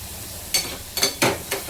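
Prawns cook in butter on a tawa over a low flame, with a soft, low sizzle broken by four quick stirring scrapes close up.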